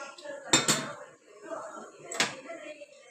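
Metal cooking pot of chicken curry lifted off a stove, giving sharp clanks and scrapes of metal on metal in two short bursts close by, with soft kitchen clatter between.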